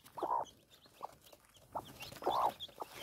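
A hen clucks near her small chicks at a rural Maharashtra homestead, with several distinct nearby clucks in uneven bursts and faint high peeps between them.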